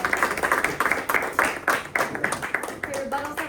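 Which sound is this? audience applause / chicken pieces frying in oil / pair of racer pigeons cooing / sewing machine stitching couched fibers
audience applause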